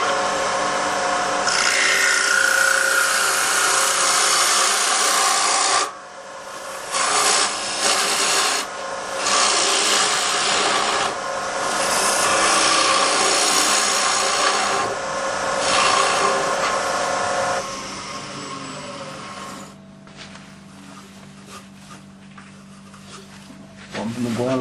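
A wood lathe rough-turning a natural edge bowl gives a continuous loud scraping, rasping hum that runs close throughout, briefly easing and returning as the gouge works the thick bottom.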